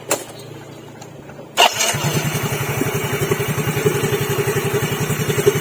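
Motorcycle engine starting right after a crankshaft roller housing press repair: a short quiet lead-in, then a sharp start and a steady, smooth rhythmic idle chugging close by, with no talk.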